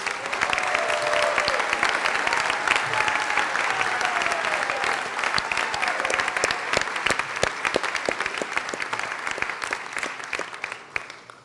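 A large audience claps at a medical school white coat ceremony, a loud sustained round of applause with scattered sharp individual claps, slowly thinning toward the end.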